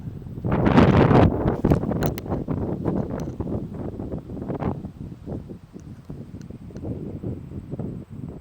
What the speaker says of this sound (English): It switched to a big headwind.